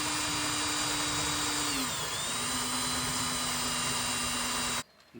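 A power drill bores a pilot hole into a new trim mould inside a VW Crafter van conversion, running steadily and loudly with a brief dip in pitch around the middle before stopping abruptly near the end.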